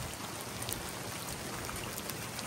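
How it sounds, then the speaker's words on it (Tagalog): Heavy rain pours down steadily during a pigeon race, a dense loud hiss with scattered drops pattering on a nearby surface, no voices. "Lakas ng ulan, grabe oh"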